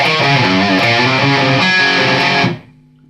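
Distorted electric guitar plays bars 5 to 8 of a riff, a steady, loud run of chugging notes that cuts off near the end and leaves a faint lingering tone.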